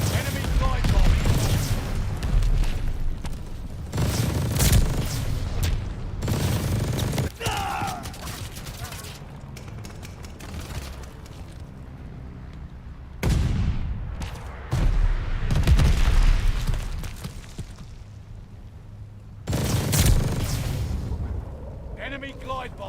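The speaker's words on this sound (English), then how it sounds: "Enemy glide bomb incoming!" Glide bomb explosions and heavy gunfire from Call of Duty Vanguard thunder in repeated loud bursts, separated by calmer stretches of quieter shooting.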